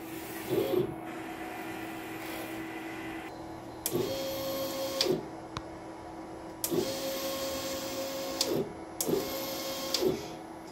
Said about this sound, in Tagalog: Punasan naman ang wiper after head clean. Nozzle check.